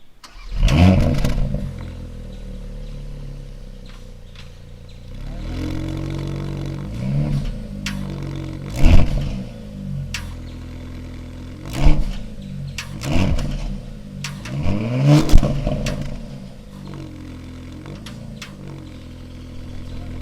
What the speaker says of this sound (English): We'll hear the exhaust note now.